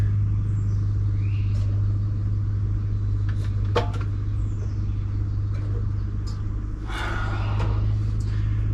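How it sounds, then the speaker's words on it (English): A 1982 Dodge Ramcharger W150 engine holds a steady, loud high idle with a stuck mechanical fault, a constant low rumble with a few faint metallic clicks over it. "That's why this thing runs at a crazy high idle."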